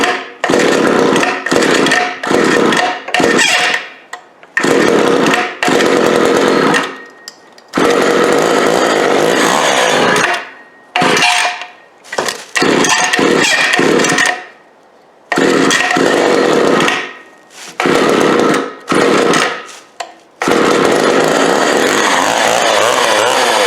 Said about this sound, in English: Was not expecting that out of a little branching saw.